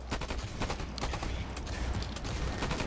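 Burst-fire pistol gunfire in the shooter game Blacklight Retribution, with rapid continuous volleys of shots close by and loud, rattling without pause through the whole stretch.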